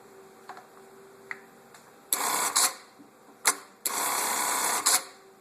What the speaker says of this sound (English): I can step on the pedal and cycle the machine through the rest of the pattern